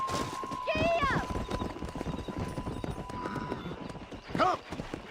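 Horse galloping in the video game Red Dead Redemption: close, rapid rhythmic hoofbeats running throughout, with a whinny near the start and another near the end.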